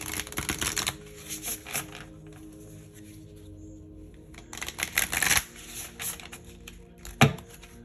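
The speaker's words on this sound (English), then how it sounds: "So let's keep pulling some cards." Tarot cards being shuffled and pulled, with brisk riffling bursts at the start and middle and a sharp snap near the end, heard close over a low steady background hum.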